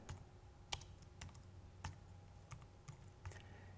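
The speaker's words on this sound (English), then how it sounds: "I can go ahead and type in the text that I want to be there" Keys on a computer keyboard are tapped in short, irregular clicks while text is entered in graphics software, quiet and close with no talking.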